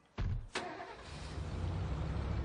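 A beat-up truck engine in State of Decay cranks with two quick bursts, then settles into a steady, loud idle rumble that fills the rest of the moment.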